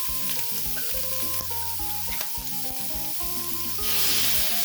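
Boiled apple snails being stir-fried in a pan for a spicy dish sizzle and hiss steadily, with scraping stirring close by and background music playing underneath.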